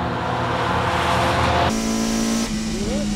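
A Toyota AE86 engine on a lap at Tsukuba, revving hard and loud before cutting abruptly into a lower steady note, then climbing again, with a voice speaking over it.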